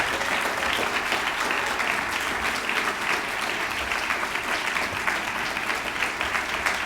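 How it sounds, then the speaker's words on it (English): An audience gives a steady round of applause for the Be Well wellness center staff at a conference, dense, even clapping filling the room throughout without a break. "And I'd like everybody else to just give them a round of applause."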